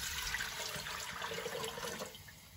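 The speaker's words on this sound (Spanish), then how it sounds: "En esta olla voy a poner el agua." Water running steadily into a cooking pot in a home kitchen for soup, a continuous splashing gush that eases off near the end.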